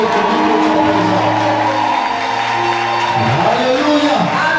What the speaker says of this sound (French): Je veux que tu donnes un tonnerre d'acclamation à ton Dieu